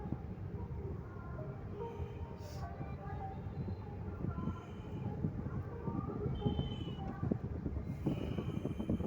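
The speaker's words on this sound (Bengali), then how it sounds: "এই পর্যন্ত ট্রেন আছে, ওই যে এই যে পর্যন্ত ট্রেন আছে" A train rolls along a railway with a steady, loud, broadband rumble and rattle lasting throughout, while voices talk over it.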